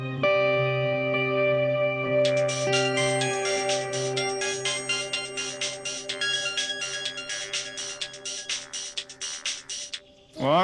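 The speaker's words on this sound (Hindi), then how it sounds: "रुको, हम गोपी को फोन करते हैं।" A phone ringtone plays while a call is being placed, a loud electronic melody with sustained tones that turns into a fast, chopped, pulsing pattern and then cuts off near the end.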